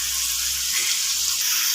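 Vegetables for a ragi flour roti sizzle and soften in a pan. A steady, close frying hiss fills the whole short stretch with no talk.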